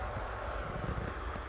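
Boeing 737-800 jet of Royal Air Maroc from Casablanca at Manchester Airport, a steady broadband engine roar heard from a distance, continuous and even with no voices.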